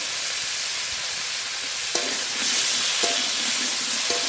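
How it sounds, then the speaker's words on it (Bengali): Spices fry with jackfruit and shrimp in a pan with a steady, loud sizzle, punctuated by a few clinks of a utensil stirring against the metal. "মেরে মেরে একটু ভাজা ভাজা করে নেব"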